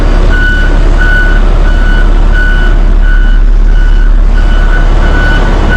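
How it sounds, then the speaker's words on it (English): A truck's backup beeper sounds loudly and steadily, repeating about every half second over a constant low engine rumble close by. "yes, this thing has a backup beeper"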